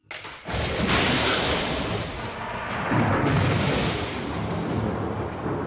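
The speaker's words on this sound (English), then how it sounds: "There was a flash of lightning and was immediately joined by a roaring thunderclap." A roaring thunderclap crashes in the video game Corpse Party: Book of Shadows, a sudden boom that breaks into a long, loud, rumbling roll and swells again partway through.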